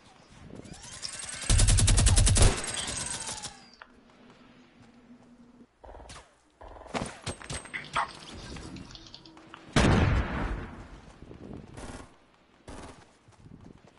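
Minigun and machine gun fire in a video game, with sustained roaring bursts up close broken by pauses, shorter rattling volleys and scattered impacts, ending in sparse intermittent shots.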